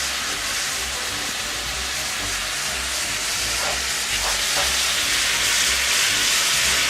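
Ground beef frying in a pan, a steady broadband sizzle with a low stove or fan rumble beneath and a few brief stirring scrapes, close and continuous without talk.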